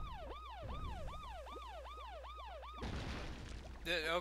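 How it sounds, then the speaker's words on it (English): A wailing siren from the Paper Mario: The Thousand-Year Door video game rises and falls in steady repeated sweeps, loud and alone, then gives way to a noisy rumble and a brief electronic flourish. "I like how it has a siren"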